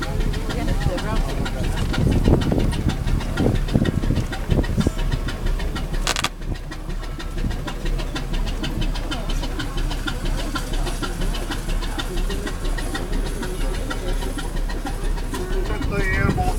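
A boat's three-cylinder four-stroke engine running steadily aboard a ferry-type vessel, a continuous low rumble with a brief clank partway through, under people talking.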